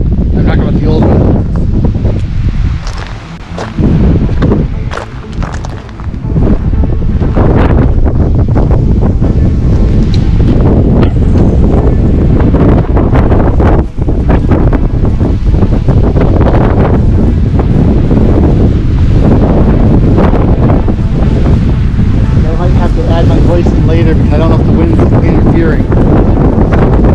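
Strong wind batters the microphone high up beside an old mine house, a loud continuous roar with gusts and a brief lull, and faint talk mixed in.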